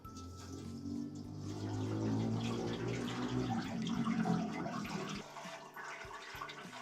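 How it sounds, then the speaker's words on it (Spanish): Water running steadily into the disc at the bottom of a steamer pot, filling it to the rim; a close, continuous gushing rush that cuts off near the end, with no voices. "en el fondo de la vaporera tiene un disco, el cual hay que llenar de agua hasta el borde"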